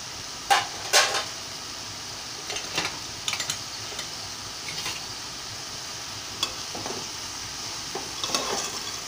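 Cowpeas (alasanda) are stirred in a pan over a faint continuous sizzle, with scattered light scraping and clicking of the spoon against the metal.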